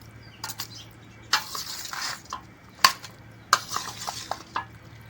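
Chicken karahi with lemon juice is stirred in a pot, the utensil knocking and scraping against the metal in irregular bursts over a faint sizzle.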